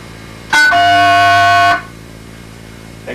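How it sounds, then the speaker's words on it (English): Green box coin collect signal made of two steady tones combined, sounding as a single loud, continuous dual-tone beep about a second long, alone with no talk. "A coin collect tone is composed of a 700 Hz and an 1100 Hz tone and sounds"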